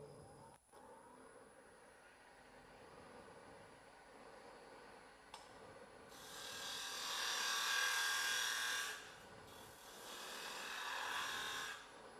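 Hand carving a bevel into a wooden base, with a steady abrasive rasping that swells into two louder bursts of grinding, close up and with no talk over it.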